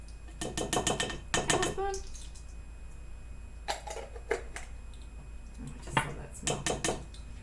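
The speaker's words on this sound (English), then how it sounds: "we stir, stir, stir." Minced garlic stirred in a cooking pot, with a metal utensil clinking and scraping against the pot in short irregular bursts separated by quieter gaps.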